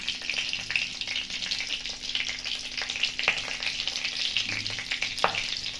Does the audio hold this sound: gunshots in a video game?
no